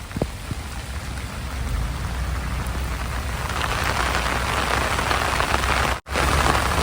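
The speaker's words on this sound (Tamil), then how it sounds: "பாருங்கள் நம்ம வீடு எப்படி நனைஞ்சிட்டு இருக்குது பாருங்கள் இந்த மழையில் எப்படி நனைஞ்சிட்டு இருக்குது" Heavy rain pours steadily onto a house, a dense and loud wash of drops that runs without a break from start to finish, with no voices.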